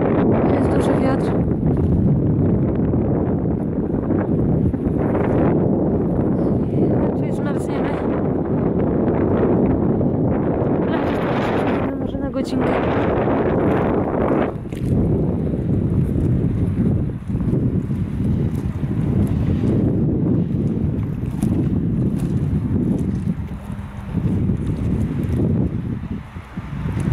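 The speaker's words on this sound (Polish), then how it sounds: "wieje silny wiatr nad wodą" A strong wind blows over water on a snowy lakeside walk where ducks gather. It makes a loud, continuous buffeting roar against the microphone that lasts throughout with barely a pause.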